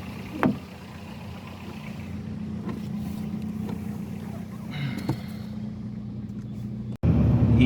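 A car engine idles with a low, steady rumble before driving off, and a louder burst of engine noise comes near the end.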